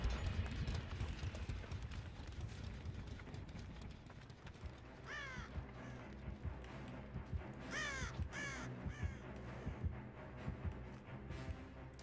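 Crows caw repeatedly in Dead by Daylight, several harsh calls in clusters standing out over a busy game background of footsteps and rustling, moderately loud and with no talk.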